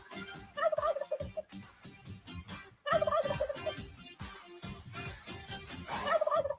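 A turkey sound effect gobbles in loud, rapid, rattling bursts, repeating several times with brief pauses between, clear and close with no talk over it.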